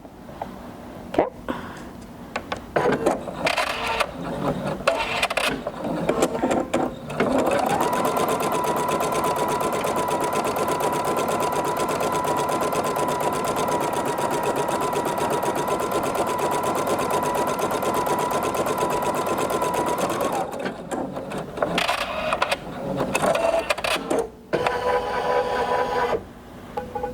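A Sapphire 85 embroidery sewing machine stitches out a design on stabilizer in a loud, fast, steady mechanical whir, with shorter stop-start bursts of stitching before and after the long continuous run.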